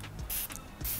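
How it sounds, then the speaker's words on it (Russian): A Dalba facial serum spray bottle spritzed twice close up, two short airy hisses of mist about half a second apart, each with a faint click of the pump, and no talking. "Спрей-сыворотка, которую можно наносить до макияжа, в течение макияжа."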